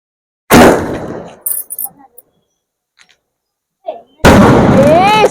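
A sharp, loud firecracker burst cracks out close by, followed by scattered crackles and pops, then another loud blast with a whistling tone and people's voices.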